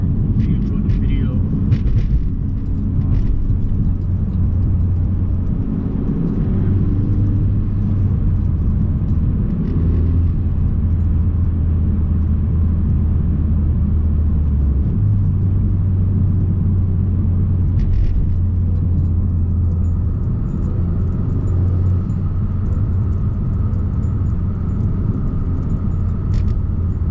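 A 2019 Honda Accord fitted with drift dialect mufflers, its exhaust giving a steady low droning rumble that holds throughout, with pitch stepping up and down slightly as engine speed shifts, heard from inside the car.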